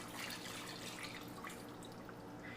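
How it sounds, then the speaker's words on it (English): Water poured from a cup into a cooking pot makes a continuous, soft splashing trickle that runs steadily throughout, fairly quiet and with no voices. "I normally put in around 2 cups of water to begin with to see how that looks."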